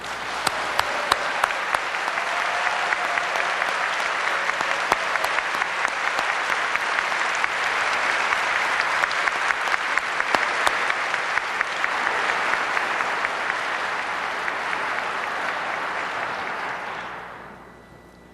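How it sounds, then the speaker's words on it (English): Large audience at a 2006 FIRST Robotics Competition kickoff applauding mentors and team leaders, dense sustained clapping with sharp individual claps on top, loud and continuous for about seventeen seconds before cutting off abruptly. "please join me in a round of applause for all of our mentors and the"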